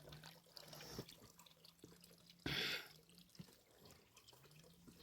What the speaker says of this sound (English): So many streams of water.